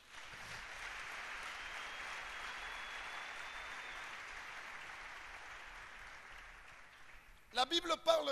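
Church congregation applauding together in a steady, moderately loud wash of clapping for about seven seconds. The clapping then fades and a voice begins speaking over its tail.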